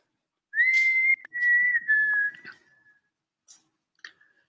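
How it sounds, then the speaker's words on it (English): Someone whistles inside Chillingham Castle: a few sustained clear tones sliding slightly in pitch, then short faint chirps and clicks in an otherwise quiet room. "Can you whistle?"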